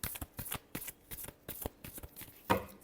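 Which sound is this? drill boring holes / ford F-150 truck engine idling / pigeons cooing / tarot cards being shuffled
tarot cards being shuffled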